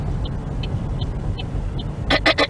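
Chevy Volt car accelerating on the road, a steady low engine and road rumble running throughout with faint ticking and a brief burst of louder broadband noise near the end.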